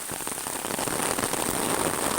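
Dense, heavy rain hisses continuously and close by on a narrow rural path, a loud steady wash with faint scattered patter and no talk.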